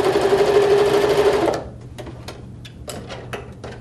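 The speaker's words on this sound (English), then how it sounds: "I'll turn it and I will sew the other side." Sewing machine stitching a seam along the side of a piece of fabric, a fast steady whirring hum for about a second and a half, then stopping into a scatter of sharp clicks and light ticks.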